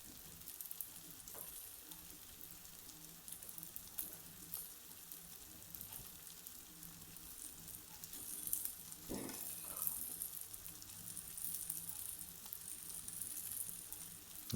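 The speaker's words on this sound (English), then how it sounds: "So now place your Balti spice paste" Balti spice paste sizzles steadily in a pan while a Balti chicken curry cooks, a constant close frying hiss with light scraping and a brief louder burst partway through.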